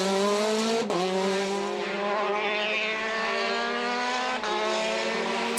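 Marianne Griebel's rally car pulls away at the start of a volcano stage of the 2018 ERC Azores Airlines Rallye, the engine revving hard with rising harmonics, a short gearshift break, then a steady loud drone held close to the microphone.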